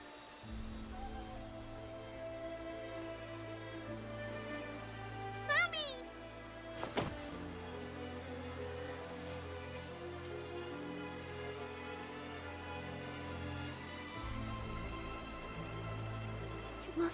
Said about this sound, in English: It must have been Xiaozhi seeking shelter from the rain